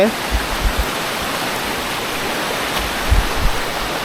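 A stream flows with a steady, broad rush of water close by, and a few soft thumps rise briefly over it.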